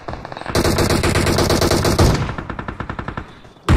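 Gunfire in the mobile battle game PUBG Mobile, a loud close burst of rapid shots followed by a quicker stuttering volley that fades, then one more sharp blast at the end.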